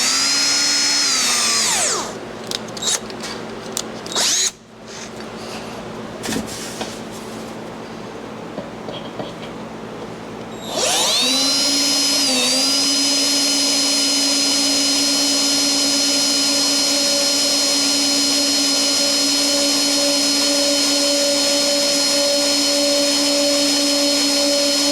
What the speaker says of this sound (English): grab some drill bits and drills. So we'll start with a small one and then kind of size it up.